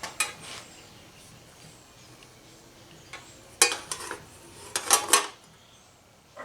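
Metal plate clinking and scraping against parts while being fitted over a Melling M155 oil pump in a Chevy 5.7 L V8, a few sharp clanks in quick clusters amid quiet pauses.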